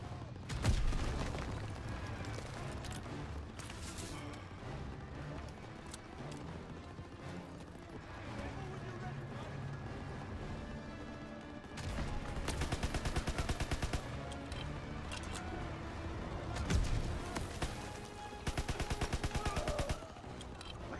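Sustained gunfire in Call of Duty: WW2, dense bursts of automatic weapons such as a grease gun crackling continuously over a booming battlefield bed, with heavier volleys rising near the end.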